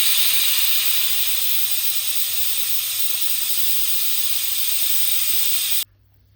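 A pressure cooker cooking mushroom biryani on a gas stove vents a loud, steady hiss of steam through its whistle for about six seconds, then cuts off abruptly into near silence.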